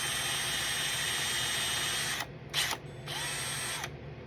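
A power drill whirs steadily through paper model parts for a Warhammer 40K tank chassis, with the parts resting on small wood blocks. The close, continuous buzz cuts out, gives a brief burst, then runs again before stopping.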